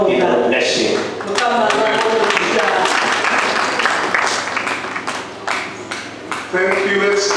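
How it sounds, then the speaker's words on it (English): Applause from the audience at a Christian police conference, honoring a bishop, runs as a dense, steady crackle through the whole stretch while a voice speaks over it. "let's clap for Bishop."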